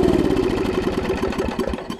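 Snapper RER riding mower engine, its governor broken, running on starter fluid: a steady, loud, close idle with a rough, uneven mid-range chug and small surges, with no voices.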